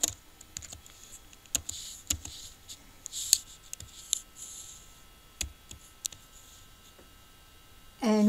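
Clicky computer keyboard typing in a quiet room, scattered individual keystrokes in short irregular bursts, fairly close, with a brief louder noise at the very end.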